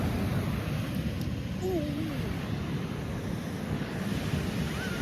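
Ocean waves washing onto a beach, a constant rushing surf with heavy wind buffeting the microphone, faint calls or voices briefly rising in the background.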